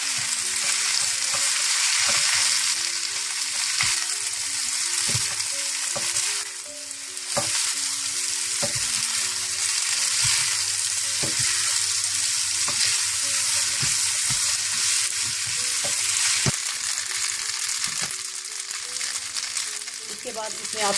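Noodles fry and get tossed in a hot pan, continuous loud sizzling with repeated clattering stirs and utensil knocks throughout, close and busy, with no voice.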